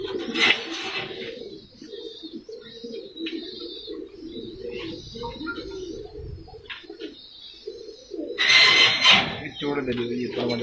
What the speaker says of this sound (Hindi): उस्ताद जान मोहम्मद की छत पर हमेशा कबूतर रात अंधेरे में ही बैठे हैं।